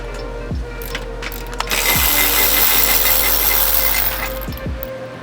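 Power tool loosening a sway bar end link bolt on a Subaru BRZ during a coilover install, a few short bursts whirring and ratcheting up close, with a longer steady run in the middle.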